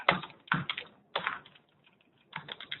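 Keys clack on a computer keyboard while code is typed, coming in short rapid bursts with brief pauses between them, close and fairly quiet.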